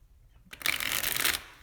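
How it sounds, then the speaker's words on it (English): A full Marseille tarot deck, major and minor arcana together, is riffle-shuffled after a quiet moment. It gives one dense, close, crisp burst of flicking cards that lasts about a second and then stops abruptly. "I shuffle an already well shuffled deck. It's the full deck, major and minor arcana."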